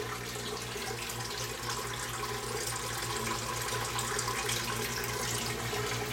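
Steady running water in an aquaponics greenhouse, a continuous broadband splashing hiss with a low pump-like hum underneath, fairly quiet and unbroken, with no voices.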